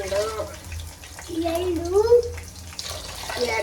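Water pours steadily into a pot of biryani with a gurgling, rising tone, over a low hum, while a voice speaks quietly.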